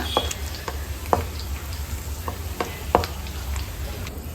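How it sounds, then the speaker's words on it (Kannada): Three sprigs of curry leaves fry in hot oil with a continuous soft sizzle, punctuated by a few sharp crackles and pops spaced irregularly, quiet and close with no talking. "ಕರಿಬೇವನ್ನ ಒಂದು 3 ಕಡ್ಡಿಯಷ್ಟು ಹಾಕ್ಕೊಂಡಿದ್ದೀನಿ. ಇದನ್ನು ಫ್ರೈ ಮಾಡಿಕೊಂಡು ಎತ್ತಿಟ್ಕೊಳ್ಳೋಣ."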